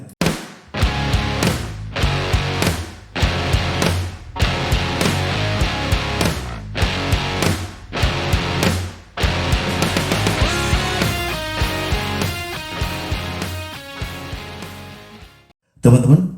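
A band recording plays through an Ashley Harmonic mixer with plate reverb and delay effects combined. Rhythmic hits and chords are washed in a long reverb and echo tail, and the sound thins out toward the end.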